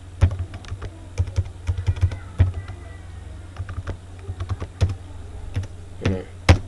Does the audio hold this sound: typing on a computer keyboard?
yes